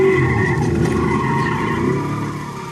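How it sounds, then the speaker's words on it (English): A 2008 Toyota Corolla LE swings through a sharp turn on an unfinished airport runway and slides sideways, its engine droning loudly with tire noise before the sound eases off. "Wilkie makes a sharp turn and the car drifts sideways into a slot the size of a parking space."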